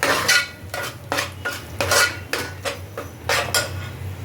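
Pav bhaji mixture tipped into a pan of melted butter, with a series of rhythmic metal scraping and clinking strokes from a spoon against the pan, close and fairly loud, about eight strokes in a few seconds.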